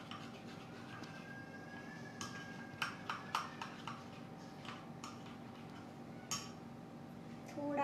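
Green food colour mixed in a bowl with a spoon, producing a short run of soft rhythmic clinks and taps against the bowl, quiet and close, with faint background hum.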